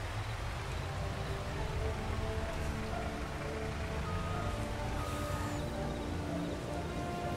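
Steady rain falls in the Farming Simulator 22 video game at night, a dense, even hiss of droplets with a faint low hum underneath, continuous throughout and without talk.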